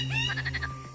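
A frog gives a quick series of rhythmic croaking chirps in Yellowstone during the spring thaw, close and clear over a steady low background hum.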